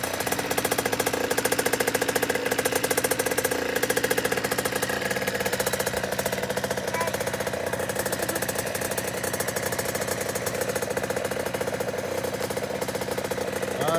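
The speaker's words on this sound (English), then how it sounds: "We got the first start up here." A 2018 KTM 50 SX kids' dirt bike engine idles after its first start-up, a steady buzzing two-stroke drone held evenly and fairly close for the whole stretch.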